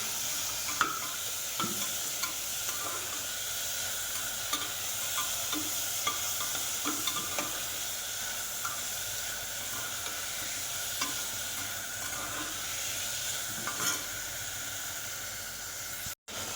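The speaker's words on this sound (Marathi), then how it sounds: "आता टोमॅटो आणि शिमला मिरची टाकून घेते हे पण चांगलं आपल्याला परतून घ्यायचं" Tomato and bell pepper being sautéed with onion in a pan, a steady close sizzle with light stirring scrapes throughout, no talking.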